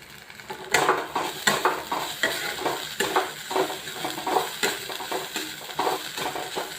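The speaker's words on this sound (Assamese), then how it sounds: "এতিয়া ভালদৰে মিক্স কৰি লওঁ।" A spoon scrapes and stirs rhythmically through a sizzling soybean momo filling seasoned with soy sauce and salt in a hot pan, with repeated close scraping strokes over steady frying.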